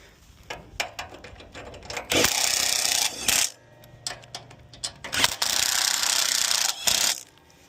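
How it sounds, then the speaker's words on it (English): A ratchet driving self-tapping screws while fitting an adapter hitch to a John Deere X350 mower: bursts of rapid close clicking in uneven runs, separated by short pauses and handling knocks. "I'm going to go ahead and tighten up those two self-tappers on this side as well as the other side."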